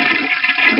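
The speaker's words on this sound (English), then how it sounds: "What about a toilet flush?" A toilet flush sound effect, a loud, close rush of water lasting under a second with no voices.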